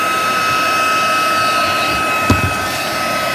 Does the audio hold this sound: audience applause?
no